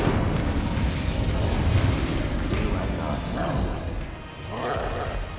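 Incendio fire spell cast in a Hogwarts Legacy-style video game amid combat, a rumbling whoosh and burst of flame with booming, crackling texture, loud and dense, tailing off toward the end.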